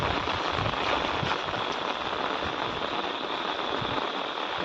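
Heavy rain falling in a village, a steady dense hiss of drops on surfaces that holds at an even level throughout with no voices.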